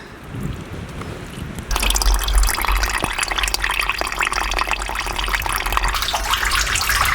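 Rainwater pours into a harvesting tank, a soft trickle that suddenly becomes a loud, steady gushing splash with bubbling and dripping, close by and without speech.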